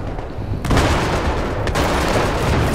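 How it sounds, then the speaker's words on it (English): Tank cannon fire and battle noise in Battlefield 3, a loud sharp blast followed by a dense rumbling wash of gunfire, with a second crack a second later. "because the tank's shooting at me still"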